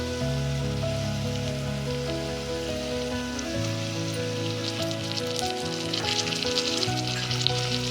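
Tomatoes sizzling in a pan for a vegetable sambar: a continuous bright frying hiss with popping spatter that swells toward the end, close and steady, heard alone under a background melody.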